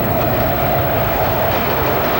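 A train rumbles past close by, loud and continuous, with a steady clattering roar filling the whole short stretch and no voices over it.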